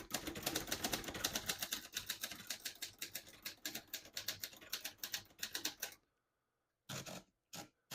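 Rapid, steady clacking of keys on a 1967 Hermes 3000 vintage portable typewriter, close and crisp, running for several seconds before stopping, then a few more short bursts of strikes after a pause.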